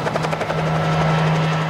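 A helicopter flying during a wild horse roundup makes a loud, steady rotor chop with a constant low engine drone, close and continuous.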